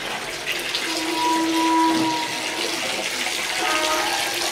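Water gushes from a village tap in a steady stream, fairly loud and close, rising slightly midway, with no talk.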